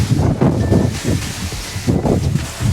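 Strong wind from Cyclone Montha gusts, roars and buffets the microphone in repeated surges, with a rustling rush of air throughout.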